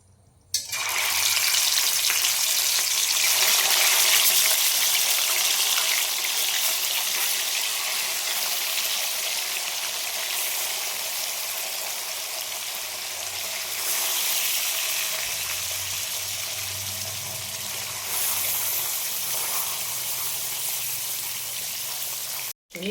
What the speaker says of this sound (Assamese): তেল গৰম হৈছে, এতিয়া মাছ অলপ অলপকৈ ভাজি যাওঁ।